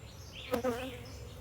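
Honey bees from a swarm buzzing around an open hive during an inspection, a close, steady drone with one bee whirring past up close.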